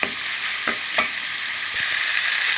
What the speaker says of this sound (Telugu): రొయ్యలన్నీ బాగా ఫ్రై అవ్వాలండి